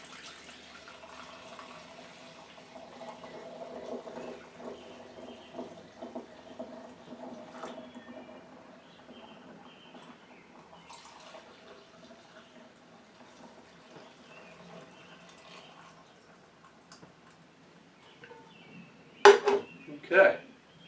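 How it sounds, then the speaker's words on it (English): Watermelon moonshine trickles through a funnel with a small sieve into a half-gallon glass mason jar, a faint uneven liquid pour, ending with a couple of louder clinks or splashes. "So I'm going to try to pour this into the, it's a half a gallon mason jar."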